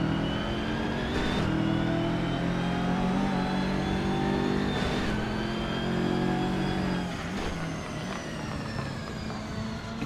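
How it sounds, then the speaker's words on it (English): A BMW M2 race car in a sim racing game holds a steady, loud engine drone with sustained harmonic tones, the pitch shifting slightly as it runs up on other cars, with no voices. "Henrik Andreasen catching up to the Lotuses in his BMW M2."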